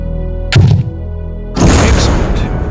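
A grenade launcher in the game Soldier of Fortune II: Double Helix fires with a short hollow thunk, then after a pause a louder booming blast hits the target and rumbles off, all over a steady background hum.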